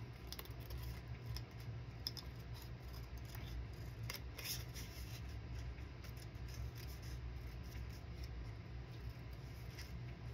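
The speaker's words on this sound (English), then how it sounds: "I'll just cut it out quickly." Quiet, close snipping and rustling as scissors cut a picture out of paper for a journal, a series of small irregular cuts over a soft background hiss, no talking.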